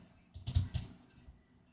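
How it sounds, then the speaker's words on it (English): A computer mouse is double-clicked while updating products in software: two sharp, quick clicks close together with a softer tap just before, close and fairly quiet, followed by near silence. "so I'm going to double click this one"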